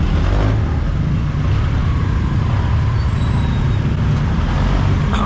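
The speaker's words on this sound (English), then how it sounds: "This is the traffic." Busy road traffic around a jeepney, a loud continuous rumble of engines and tires with buses and trucks close by, and a brief hiss of air brakes partway through.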